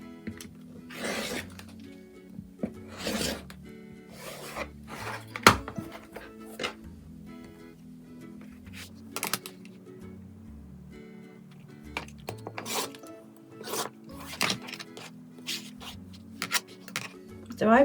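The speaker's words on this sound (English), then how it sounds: "and then you trim up and down the sides" Rotary cutting or trimming of a card trick quilt block along a ruler, heard as a series of brief scraping cuts at an irregular rhythm, fairly close and soft, with quiet handling noises between strokes.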